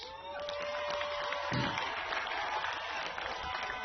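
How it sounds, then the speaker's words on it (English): An audience applauds the Springboks rugby team on their World Cup trophy tour, a steady, sustained clapping that carries on under a speaking voice throughout. "we want to applaud you for that"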